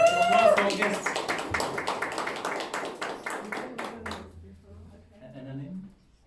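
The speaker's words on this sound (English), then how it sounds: "Applause for our guests." Audience applause for guests at a Toastmasters meeting: several seconds of steady, close clapping from a small group that fades out, with a voice speaking briefly near the end.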